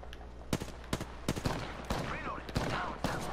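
Sniper rifle shots crack out in Apex Legends, several sharp reports spaced about half a second apart over game background noise, with faint chatter and effects between them.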